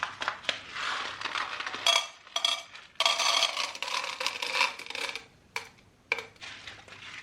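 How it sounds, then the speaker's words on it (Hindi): Small hard beads of wax pour and rattle into a wax heater in a home beauty setup, a series of close, light clinking and skittering bursts with short quiet gaps between them. "वैक्स हीटर में मैं ये बीड वैक्स डालूँगी"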